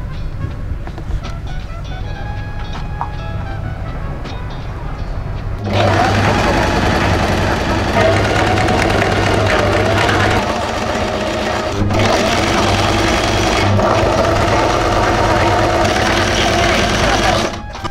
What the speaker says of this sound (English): So we're just going to sew it on.